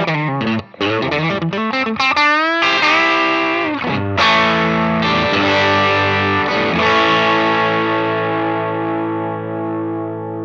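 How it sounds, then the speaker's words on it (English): An electric guitar plays through a Paul Cochrane Timmy V3 transparent gain pedal at mid gain with the boost off: quick picked notes open into ringing, lightly driven chords that sustain and slowly decay, with no talking. "Here's the pedal set to a mid gain sound with the boost off."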